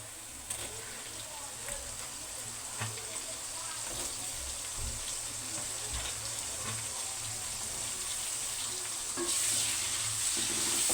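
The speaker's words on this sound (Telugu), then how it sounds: "ఇప్పుడు టమాటాలు వేసుకున్నాము" Tomatoes fry in a pan over cooked onions for a cauliflower and prawn curry. The close, continuous sizzle is broken by stirring clicks and grows slightly louder toward the end, with no voices.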